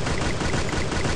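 Rapid gunfire from a gun in the video game Free Fire, a dense, loud continuous burst of shots with no gaps, filling the whole short moment.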